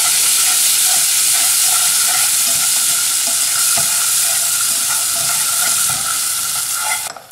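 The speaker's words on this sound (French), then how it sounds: "mettre du beurre dans une poêle. Je rajoute par-dessus de la farine. Et je vais mélanger tout ça" Butter and flour roux stirred in a frying pan for a ham-and-cheese crêpe béchamel, a steady loud sizzle with scraping spoon strokes throughout, alone with no talk.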